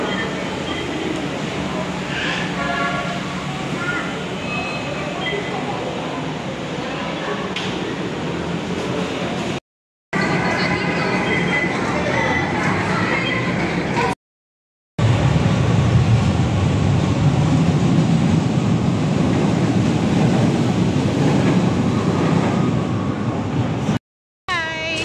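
A crowded, air-conditioned LRT Line 1 light rail train in the Philippines rolls along with a steady rumble and rattle, broken by a few short gaps, while voices chatter on board.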